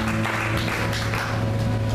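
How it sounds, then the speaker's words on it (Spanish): A church congregation applauds loudly and continuously, a thick crowd of clapping hands over a steady low hum from the room's sound system. "denle un fuerte aplauso a aquel hermano"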